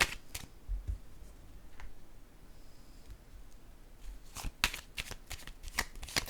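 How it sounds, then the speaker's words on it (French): A card drawn from a deck, heard as faint riffling, flicking and sliding taps of cards in a quiet room, with a cluster of quick snappy card sounds near the end. "Je vais piger une carte ici."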